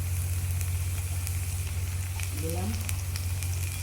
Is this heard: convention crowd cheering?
no